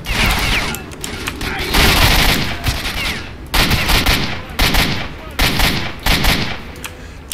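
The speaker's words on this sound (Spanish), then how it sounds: "pego mejores disparos que antes" Gunfire in S.T.A.L.K.E.R.: Shadow of Chernobyl, several loud bursts of shots with crashing impacts, arriving in clusters with brief gaps between them across the stretch.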